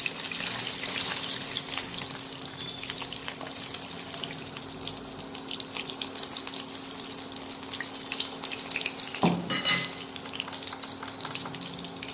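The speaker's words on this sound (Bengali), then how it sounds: "এই পিঠটাও খুব ভালো করে ভেজে নিয়ে তুলে নেব।" Steady crackling sizzle of a katla fish piece frying in hot oil, continuous and close, with a brief clatter near the end.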